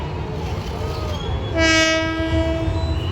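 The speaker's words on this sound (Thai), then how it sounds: "รถไฟก็มานะครับ" Express train 171 from Bangkok to Sungai Kolok, hauled by a Hitachi locomotive, rumbles past nearby, and a loud, sustained horn blast sounds midway over the rolling noise.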